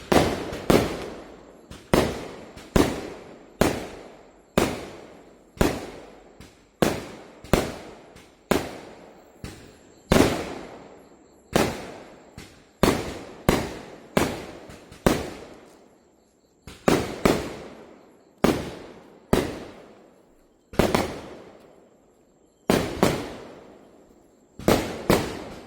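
Firecrackers and fireworks burst across a neighbourhood packed with houses, dozens of sharp loud bangs in irregular quick succession, each with a short echoing tail and no talking.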